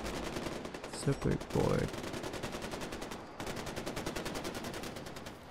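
Rapid bursts of gunfire in Far Cry 4 rattle steadily through most of the stretch, with a few louder shots standing out near the start, while someone talks briefly over the shooting.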